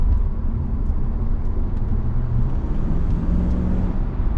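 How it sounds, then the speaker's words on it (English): Steady road traffic noise, a continuous broadband rumble of passing vehicles heard from near a 1998 Mercedes-Benz CLK BRABUS, constant and fairly loud with no clear gaps and no talking. "A lot of traffic today."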